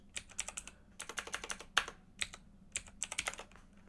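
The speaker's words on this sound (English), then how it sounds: "Helps if I'm typing in the box." Quick bursts of typing on a computer keyboard, close and crisp clicks in short clusters separated by brief pauses, with no talking.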